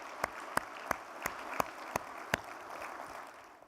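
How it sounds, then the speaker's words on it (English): Audience applause at a Michigan Farm Bureau annual meeting: a steady patter of clapping from a crowd filling a hall, with a few sharper nearby claps standing out, holding at moderate loudness and tapering slightly at the end. "I ask that we give him another round of applause and Nancy for their great work."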